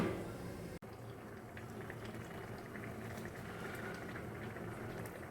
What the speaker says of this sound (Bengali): আমি একটু জল দিয়ে ফোটাবো। একটু চাপা দিয়েই ফোটাবো।